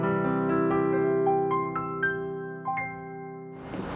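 A Kawai KDP120 digital piano's concert grand sound plays a sustained chord with a sequence of bright notes on top, ringing and close, fading at the end.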